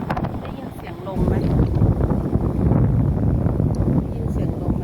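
Strong storm winds roar across an open freshwater lake beside a flooded area, a continuous loud buffeting rush that swells after the first second and batters the microphone.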